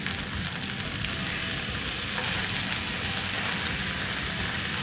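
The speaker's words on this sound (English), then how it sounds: "So now we're just going to flip the last few pieces of beef." Raw beef pieces fry in a pan, giving a steady, even, close-up sizzle and crackle that holds constant throughout, with no talking.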